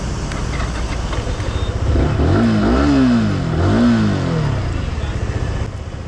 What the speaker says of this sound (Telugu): ఎగ్జాస్ట్ నోట్ అలాగే ఇంజిన్ నోట్ విన్నారు కదా